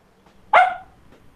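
A single dog bark rings out at mid distance, sharp and fairly loud, set against quiet background at an expat's home in the Philippines.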